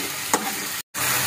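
Onions and tomatoes sauté in a pan for a vegetable kurma, giving a steady, close sizzle with a soft stir or scrape near the start and a brief gap before the frying hiss resumes.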